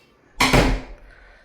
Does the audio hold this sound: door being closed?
yes